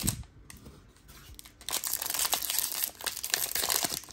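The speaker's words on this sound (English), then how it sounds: "So let's start ripping." Close, crisp crinkling and tearing of foil wrappers as 2023 Topps Series 1 jumbo trading card packs are ripped open, quieter at first, then loud dense rustling bursts.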